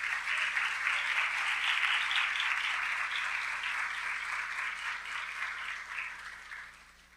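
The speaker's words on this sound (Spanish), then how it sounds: "uma salva de palmas" Sustained audience applause at an academic event in Rome, a dense steady clapping from a crowd that holds level for several seconds and then gradually fades toward the end, with no speech over it.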